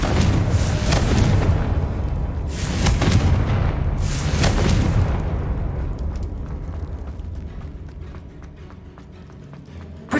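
Confringo blasting-spell explosions from the Hogwarts Legacy video game: three loud, booming blasts in the first five seconds, each with a rumbling tail, then a fading low rumble with scattered crackles.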